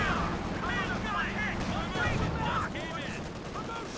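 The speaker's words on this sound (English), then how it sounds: "AT-gun getting some shots going there on the Sturm." An anti-tank gun firing on a Sturmtiger in Company of Heroes 2, heavy game-battle gunfire and explosions rumbling steadily under a commentator's fast talk.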